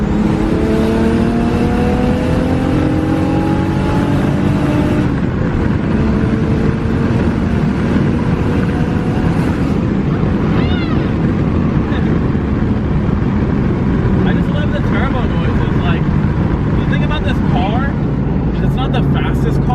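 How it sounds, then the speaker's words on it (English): A tuned Toyota Supra accelerates hard under constant boost, its loud engine drone rising steadily in pitch from inside the car with road and wind roar, and a voice talking over it. "But it just keeps accelerating. Like, it never slows down. It's just constant boost all the way throughout the RPM band"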